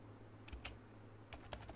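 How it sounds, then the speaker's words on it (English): Keys clatter on a computer keyboard in two short bursts of typing while text is entered into an HTML editor, quiet and close with a low hum underneath. "And I could continue typing down here."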